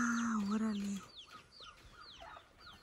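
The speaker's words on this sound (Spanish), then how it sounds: "Gallinas felices." Hens cluck in a series of short rising calls at a chicken coop in the Huasteca Potosina, Mexico, moderately near, after a brief low voice at the start.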